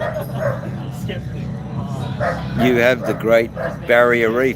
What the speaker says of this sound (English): we got cats and dogs everywhere. You can hear them barking now.